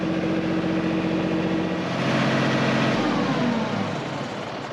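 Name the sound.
tractor engine running while parking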